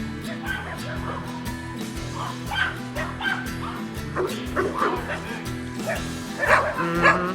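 A dog barks and yips repeatedly, mixed with whiny whimpers, close by over a steady hum, with some voices in the background.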